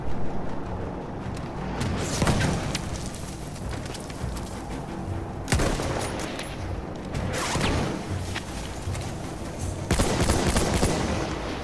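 Heavy gunfire in Battlefield 1 rattles on in sustained bursts with sharp cracks and booming impacts, loud and close, pulsing through the whole stretch of battle noise.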